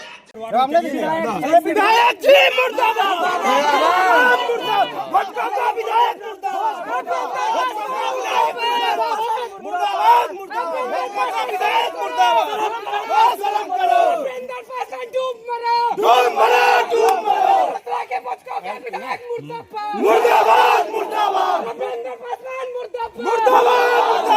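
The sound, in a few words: crowd protesting against a politician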